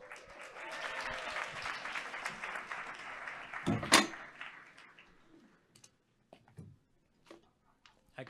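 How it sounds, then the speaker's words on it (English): An audience at a hackathon closing ceremony applauds a demo team, claps loud and dense at first, a sharp clang midway, then tapering off into scattered claps and quiet. "Please give BetStreams a big round of applause."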